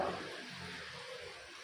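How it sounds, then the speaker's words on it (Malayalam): Soaked horse gram being rinsed in water, a steady rushing, swishing wash of water heard up close and alone, with no talk. "ഇത് നന്നായിട്ട് രണ്ട് മൂന്ന് പ്രാവശ്യം കഴുകുക"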